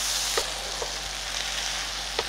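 Soaked basmati rice is stirred into a frying pot of soya chunk biryani: a loud, steady sizzle with a few soft scraping stir strokes, close up and with no voices.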